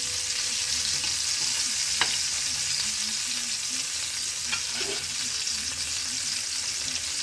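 Fish frying in a pan, giving a continuous close hiss and crackle of hot oil with a couple of brief knocks from a utensil.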